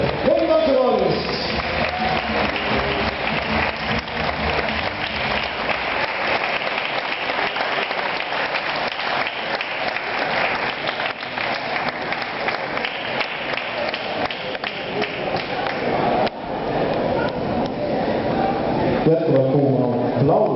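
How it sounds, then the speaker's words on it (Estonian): Warm, sustained applause from a studio audience, dense continuous clapping that fills the whole stretch, with a host's voice briefly heard over it. "Jätkuvalt kuuma aplaus."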